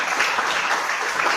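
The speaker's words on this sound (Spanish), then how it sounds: "un fuerte aplauso a todos los que han servido en los diferentes ministerios" A church congregation breaks into applause after a sermon, a dense, steady burst of clapping that fills the short moment without any talk over it.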